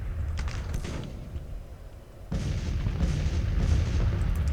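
Artillery bombardment in the Civil War strategy game Grand Tactician: Civil War, a low rolling rumble of distant cannon booms that dips briefly and then swells again, steady and muffled with no talk.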